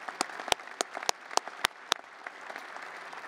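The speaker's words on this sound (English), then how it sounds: "If you give them a round of applause for all their support and everything to make this happen." Applause at the opening ceremony for a university football performance complex: a few loud, crisp individual claps ring out over a softer bed of scattered clapping from the crowd, then the claps thin out.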